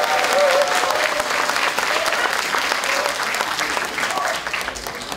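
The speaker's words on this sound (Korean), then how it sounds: "여러분 큰 박수 한번" Large crowd at a Democratic Party provincial delegates' convention applauding loudly and continuously, a dense wash of clapping with some vocal murmurs mixed in, holding steady throughout.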